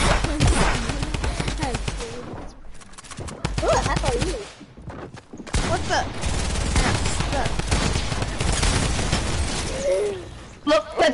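Dense, continuous drum gun fire sprays in a chaotic video game fight, with short pauses between long bursts, heavy and close, mixed with crashes, shattering and other effects and no clear talk.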